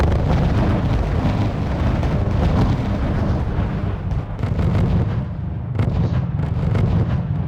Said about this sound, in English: I have a firing line of Pori anti-tank guns over here that are also just destroying him